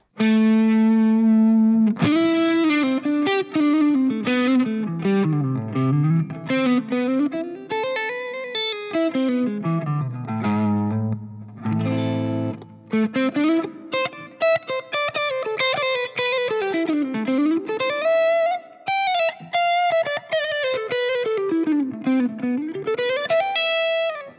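Distorted electric guitar, a 2025 Ibanez Artcore on the neck pickup, with a warm, rounded tone plays a melodic lead line, notes bending and sliding, heavy saturation and a slight chorus shimmer throughout.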